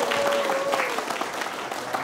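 A room of participants at a religious training centre event in Palembang breaks into applause, a dense, fairly subdued patter of many hands clapping at once that tapers slightly toward the end.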